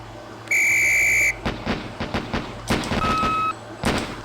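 A shrill, steady whistle blast nearly a second long in the video game Police Quest SWAT, followed by a string of short mechanical clicks and clacks and a second, quieter tone sequence.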